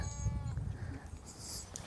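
A sheep on a farm fenced into pastures in mountainous country bleats once in a wavering, drawn-out call, close by, against steady outdoor wind noise.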